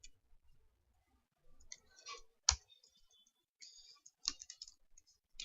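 Scattered bursts of computer keyboard typing while writing Ext JS code in Eclipse: light clicks in short clusters separated by pauses, with one sharper keystroke, fairly quiet and close, no talk.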